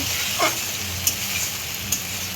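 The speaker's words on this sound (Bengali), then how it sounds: "বাটা দিয়ে ভালো করে একটু ভেজে নেব।" Ginger paste frying in rendered mutton fat for ghugni, a steady bright sizzle with a soft stirring swish and a couple of light utensil ticks, close and continuous.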